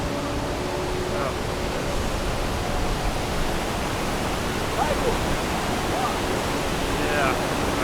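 The roar of Iguazu Falls, a huge waterfall, fills the air as a constant dense rushing wash, loud and unbroken, with faint voices now and then beneath it.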